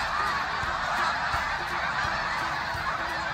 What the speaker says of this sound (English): now these birds are descending from the skies to revisit the rest of the flock on